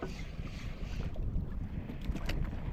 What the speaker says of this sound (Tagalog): Palakas na ng hangin.